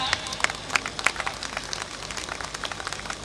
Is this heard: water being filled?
no